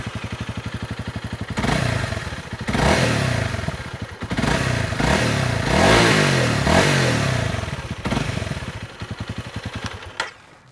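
A Honda CRF 250 Rally's 250cc single-cylinder engine idles with a steady thumping putter, then revs up and down several times in sharp bursts before settling back to idle.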